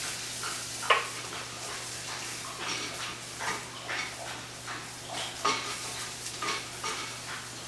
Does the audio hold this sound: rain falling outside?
no